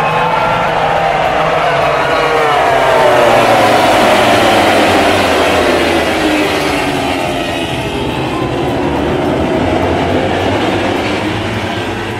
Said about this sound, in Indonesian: resmi sudah balapan MotoGP 2022 seri kedua Mandalika Indonesia dimulai